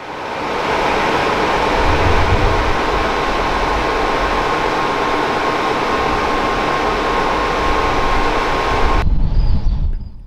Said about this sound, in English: Amtrak 350 departs Ann Arbor